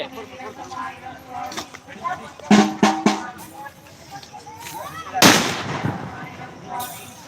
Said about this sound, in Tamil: இருப்பா இருப்பா வெடி வெடி வெடி.